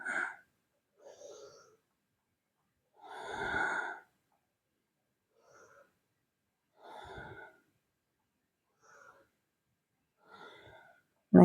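Several slow, audible exhalations during a Kundalini yoga back stretch, each a soft breathy sigh separated by long quiet pauses, one deeper and louder than the rest.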